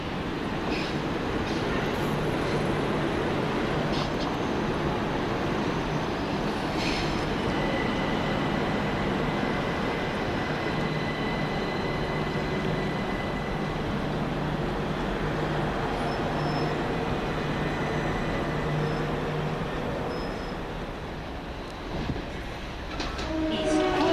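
A Class 377 electric multiple unit train at East Croydon station, a steady loud rumble of wheels and motors close by throughout, with brief higher tones from the station and no speech.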